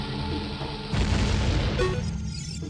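A bomb goes off in the video game Ocarina of Time, a sudden deep booming burst that rumbles for a moment over steady game background sound, followed by a faint higher chime.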